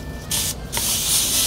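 A handheld spray bottle mists pest treatment onto houseplant leaves in close, loud hissing bursts, one short spritz followed by a longer continuous spray, with no voices.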